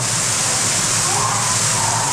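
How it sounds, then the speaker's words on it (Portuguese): Hot spring water gushing up from a hole at the Grutas de Tolantongo in Mexico, a loud, steady broadband rush of churning water filling the whole stretch, close by, with no break in the flow. "A água brotando. Olha como ela brota."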